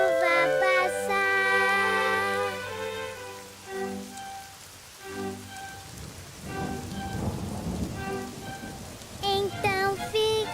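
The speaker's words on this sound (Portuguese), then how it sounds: "esperem a chuva passar" Steady rain falls through the whole stretch under a thunderstorm, with rumbling thunder, while a sung melody and music play over it in a children's animated show.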